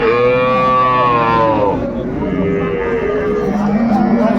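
A cow lows at a busy cattle market, with a long drawn-out moo up close and a second, lower call near the end, all over a crowd murmur.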